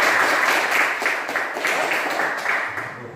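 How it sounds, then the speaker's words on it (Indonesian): Applause from a classroom audience, a dense burst of many hands clapping together for about three seconds, loud and close, slowly fading. "Tepuk tangan untuk"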